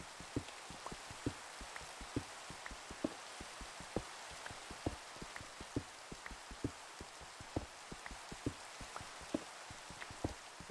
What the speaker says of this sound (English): Oh, it's gonna rain.